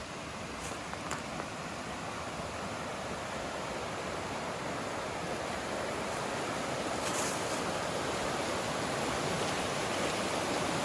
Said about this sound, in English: And Bald River is right over here.